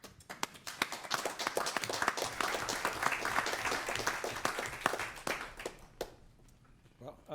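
At a school board meeting, a modest group applauds with distinct, uneven claps that swell, then thin out and trail off toward the end, with a voice briefly audible as it fades.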